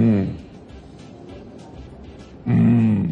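A voice imitates a lion's roar, with a throaty growling burst at the start and another louder one near the end, and quieter murmuring in between.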